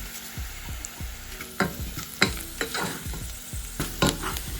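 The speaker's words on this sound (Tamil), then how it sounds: "இந்த வெட்டி வச்ச வெங்காயத்தையும் போடுறேன். நல்லா கிண்டுவேன்." Chopped onions frying with fennel, black pepper, cumin and fenugreek for chicken curry give a constant close sizzle, punctuated by repeated sharp spatula scrapes and clinks against the pan as the mixture is stirred.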